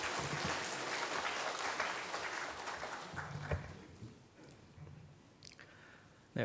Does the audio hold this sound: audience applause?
yes